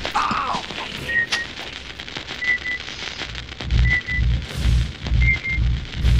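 A grenade launcher fires in the Aliens Versus Predator Classic video game. Repeated heavy thumping blasts arrive in a steady rhythm over busy game noise and beeping tones.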